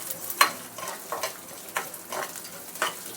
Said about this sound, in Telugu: ఇది బ్రౌన్ కలర్ వచ్చే వరకు వేయిద్దాం.